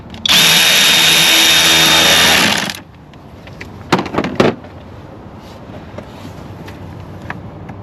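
A power tool runs loud and close in one sustained burst of about two and a half seconds while tightening 8mm clamps on a 2011–2023 Dodge Charger with the 3.6 L engine, followed by a few brief metallic clicks and clanks.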